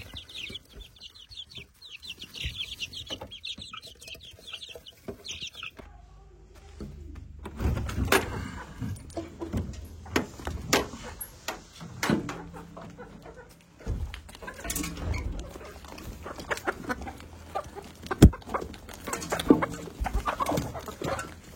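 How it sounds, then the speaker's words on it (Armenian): Village hens cluck and squawk while being fed leftover household food scraps, close clucking calls over the opening seconds, then scattered pecking, rustling and thumps as the birds eat. "Ժողովուրդ ջան, հիմա հավերին կերակրում ենք տան մնացած սննդի մնացորդներով,"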